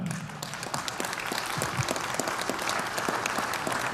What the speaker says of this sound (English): Please give a big round of applause for last year's recipient and the man that this award is named after, Julian Noga.